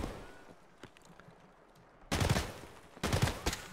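Two loud bursts of rapid automatic gunfire in the video game Escape from Tarkov, each lasting under a second, breaking a quiet stretch of faint background sounds.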